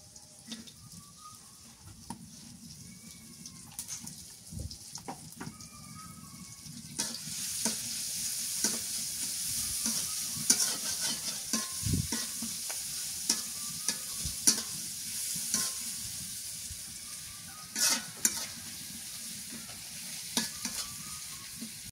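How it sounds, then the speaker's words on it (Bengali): Chopped onion and green chili sizzle in hot oil while being stir-fried, a steady crackling hiss with repeated scraping and clacking from the spatula, growing louder and busier partway through, with no talking. "পেঁয়াজ কুচি আর কাঁচামরিচ দিয়ে দিই"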